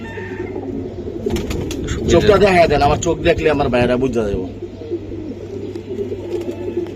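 Pakistani teddy pigeons cooing softly in a steady low hum beneath someone talking loudly close by, with a few faint wing flutters.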